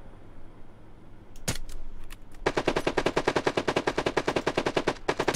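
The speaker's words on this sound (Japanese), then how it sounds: "なんか後ろから撃ってるやついるんだよ。" Rapid automatic gunfire in the mobile battle royale game Knives Out, coming from behind the player: a few scattered shots, then a long steady burst of closely spaced rounds, loud and close.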